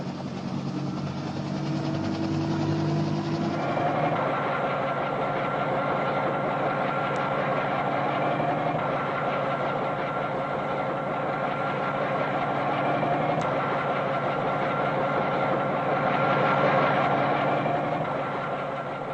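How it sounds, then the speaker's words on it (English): President Kennedy's helicopter flying to the airport, a steady, droning engine and rotor hum with a dense mechanical rumble that holds continuously throughout, fairly loud and unbroken. "The first stage of the journey is aboard President Kennedy's helicopter to the airport"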